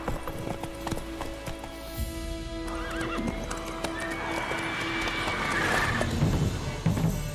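A horse in a video game gallops with steady, rhythmic clip-clop hoofbeats and lets out a clear neigh, loud and close over a continuous background game soundscape.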